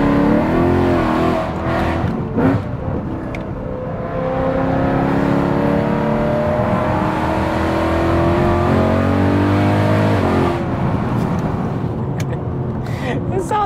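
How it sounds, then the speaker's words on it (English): A BMW E92 M3 V8 roars steadily from inside while driving on a slippery road, its loud engine drone rising and holding through gear pulls, with brief talk early and late. "sounds like a NASCAR, this thing"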